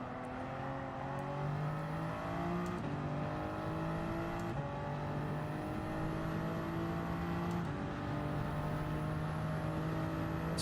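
Race car engine in Gran Turismo 7 holding a steady high-pitched drone through a lap, with rising tones as it climbs through the gears and brief dips at each shift, loud and continuous with no talk.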